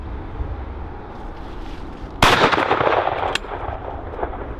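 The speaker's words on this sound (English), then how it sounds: "we're just going to step back and take a shot from 55 yards" A single shotgun blast fired at 55 yards from the top barrel with full choke using 28-gram 6.5 shot, one sharp loud report midway through outdoor wind noise, followed by a short fading echo.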